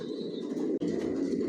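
White racer pigeons coo steadily in a loft, a close, low, throaty rolling call with a brief break midway.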